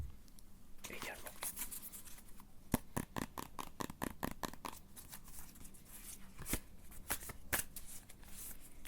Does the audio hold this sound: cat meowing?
no